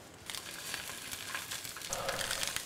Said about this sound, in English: probably the hardest thing we're going to do is just cook our sausage